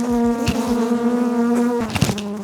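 Agitated honey bees swarm close around a beekeeper, a loud, dense buzzing drone that rises and falls as they circle near, with sharp passes of individual bees darting by.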